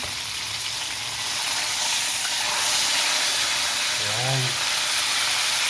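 Tilapia fries in a pan with a constant loud hissing sizzle, and a short voice is heard briefly near the end.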